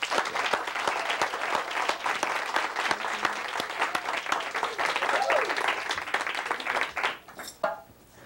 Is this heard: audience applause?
yes